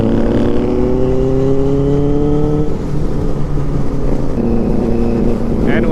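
A motorbike engine drones steadily while riding, a loud continuous hum with slowly rising pitch, then easing and steadying, under strong wind noise.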